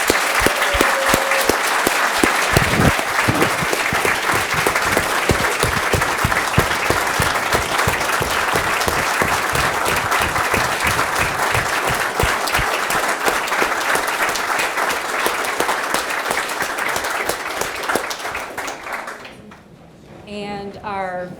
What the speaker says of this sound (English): Would you all please join me in giving these students a round of applause?